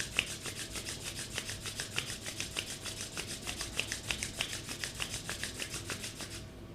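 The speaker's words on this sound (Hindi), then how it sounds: "हथेलियों को आपस में रगड़ लेंगे" Palms rub briskly together in a quick, even rhythm of dry, close swishing strokes, about three per second, carrying on steadily with no talking.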